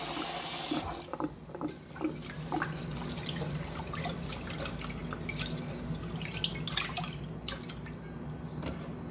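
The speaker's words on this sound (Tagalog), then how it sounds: "Hugasan ang bigas." Rice is washed by hand in water at a kitchen sink. Running tap water and sloshing splashes are heard up close, with scattered drips and swirling grains throughout.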